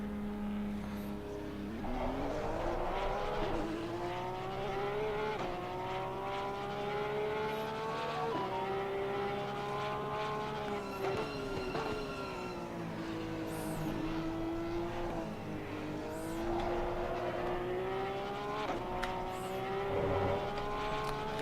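Race car engines at Imola in Assetto Corsa Competizione, a close, sustained engine whine that rises and falls through gear changes and corners, with other cars passing faintly.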